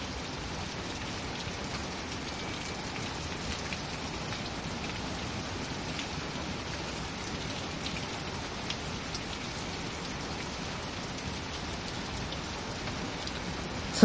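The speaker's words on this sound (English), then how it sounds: "Some more distant thunder, I hear." Steady rain falls close by onto a porch and the ground around it during a thunderstorm, a constant hissing patter with no clear thunder rumble standing out.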